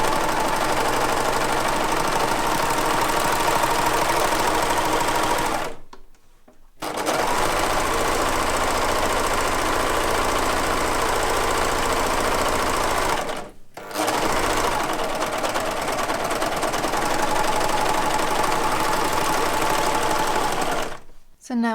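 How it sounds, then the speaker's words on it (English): A serger (overlock sewing machine) runs loud and steady while edging fabric ties, in three long continuous runs separated by brief pauses. "So now I use my serger to make the ties."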